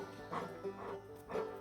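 A dog makes three short, whiny yips or soft woofs indoors, evenly spaced and fairly close, with a low background hum beneath them.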